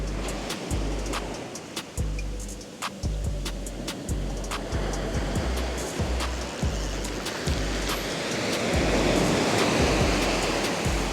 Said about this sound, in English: right where the waves are breaking.